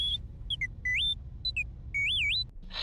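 A droid in the video game Star Wars KOTOR II beeps and warbles in a rapid run of electronic tones, some short chirps and some longer rising and falling sweeps, loud and close.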